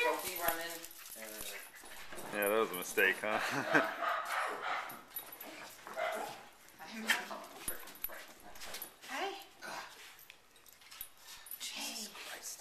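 Two dogs greet their owner at the door with excited whimpering, whining yips and occasional barks, close and lively, while someone talks to them warmly throughout.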